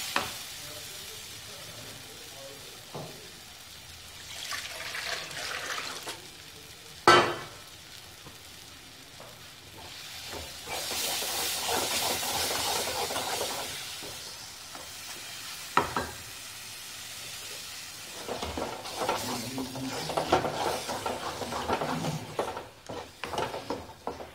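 Ground suran (elephant foot yam) paste roasting and being stirred in a pan for a curry; soft sizzling with intermittent scraping and stirring sounds and occasional clinks of the spoon, without speech.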